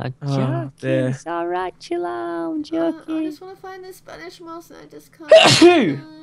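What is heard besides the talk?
sneeze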